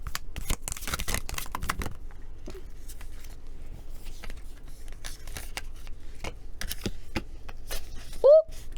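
Tarot cards being handled close by, with a burst of rapid shuffling riffles at the start, then scattered light taps, slides and flicks, and a brief whistling tone near the end.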